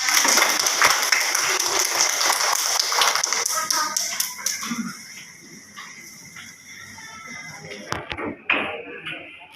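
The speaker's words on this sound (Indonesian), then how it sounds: "Tepuk tangan" Brisk hand clapping from a group in a classroom, fast and close at first, then thinning into a few sharp scattered claps and knocks with light room noise.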